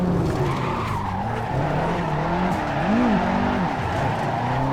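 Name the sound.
car scraping in video game Assetto Corsa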